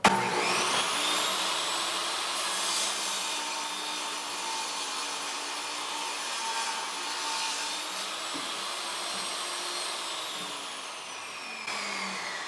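A table saw whines steadily as it cuts a kerf in wood for a speed divider, the motor's high tone sliding slightly up and down as the blade works through the piece, close and alone.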